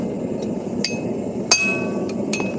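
A hammer strikes hot steel during live hammer forging, giving a few sharp, ringing metallic blows at irregular intervals over a steady background hum.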